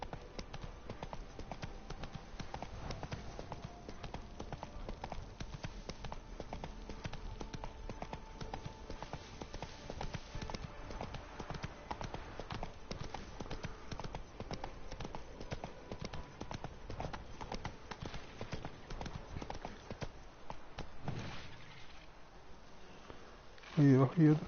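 Geralt's horse Roach gallops in The Witcher 3, a fast, steady clip-clop of hooves running on for about twenty seconds, fairly close, before easing off near the end.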